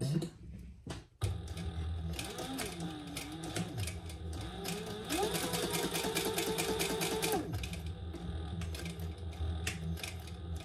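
An industrial sewing machine stitches leather under a card slot of a Jordan pouch, a steady close mechanical whir with rapid needle clatter, with brief pauses near the start and a slight change in pitch partway through.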